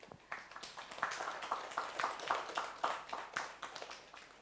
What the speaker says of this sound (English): So I think you should all clap for yourself.